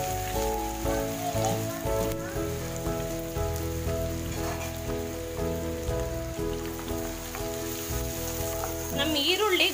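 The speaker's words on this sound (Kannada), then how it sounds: "ಎಣ್ಣೆ ಚೆನ್ನಾಗಿ ಕಾದ ನಂತರ ಈರುಳ್ಳಿ ಹಾಕಿ" Onions sizzle in hot oil in a pan for a mutton nihari masala, a soft crackling hiss under steady background music.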